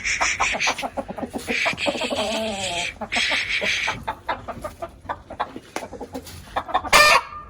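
Chickens cluck close by in a farmyard, several hens calling in quick overlapping bursts with a drawn-out crow-like call, loud and busy throughout, with little sign of talk.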